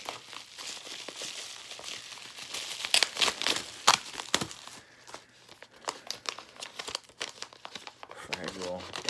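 Bubble wrap being crinkled and torn open around a plain white envelope holding sports cards, close and loud with sharp crackling bursts, while a person talks over the handling.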